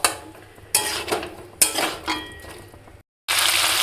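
Spice paste (masala) frying in a pan with a splash of water added, heard as loud sizzling hiss in bursts with scraping and stirring clatter, broken by a brief silence.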